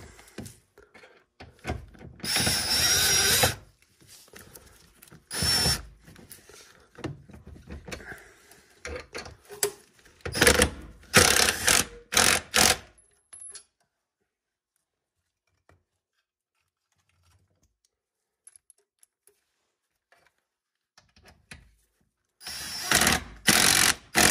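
Power drill tightening down hardware, loud close whirring bursts broken by pauses and a long quiet stretch before a final burst.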